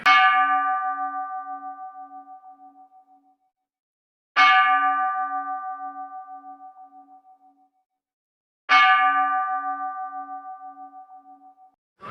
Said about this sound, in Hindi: उधर चौरास्ता में घंटी का शब्द।